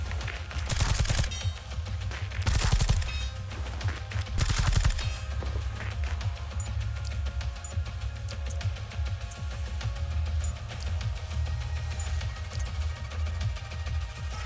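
Video game combat: an incendiary attack alongside gunfire, with several loud bursts of rapid fire in the first five seconds, then a continuous crackling, burning texture with scattered faint shots for the rest.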